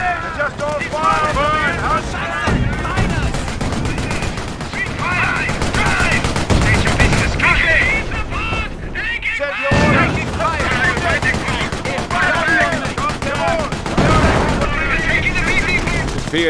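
Continuous battlefield gunfire in the World War II strategy game Company of Heroes, set in the Operation Market Garden campaign around Oosterbeek: dense machine-gun chatter and rifle shots with booming impacts, loud and unbroken, with unit voices calling out over it.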